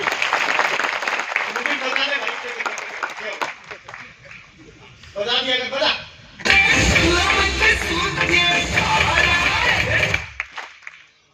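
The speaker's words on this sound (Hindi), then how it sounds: "तो मैं आप सभी लोगों के लिए भी एक जोरदार तालियां हो जाए।" Audience applause at a gathering in Jaipur, with a burst of crowd clapping and cheering that swells loudly in the second half and stops abruptly, following stretches where someone speaks.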